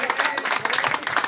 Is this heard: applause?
yes